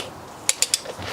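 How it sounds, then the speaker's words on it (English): A ratcheting torque wrench tightens the belt tensioner bolts on a BMW N47/N57 diesel engine, giving three quick, evenly spaced clicks up close in an otherwise quiet moment. "Now I'm going to get both of those bolts torqued down to 38"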